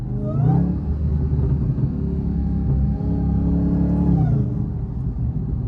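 A deep, steady SRT Hellcat engine rumble idles loudly with a brief rev at the start, holding a low growl throughout before easing slightly near the end.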